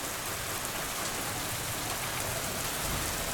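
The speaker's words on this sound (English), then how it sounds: "It was still pouring." Heavy rain pouring in the video game Fatal Force: a loud, constant roaring downpour with no breaks or voices, steady from start to finish.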